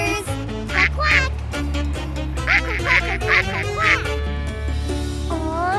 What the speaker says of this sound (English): Quack, quack, quack, quack, quack!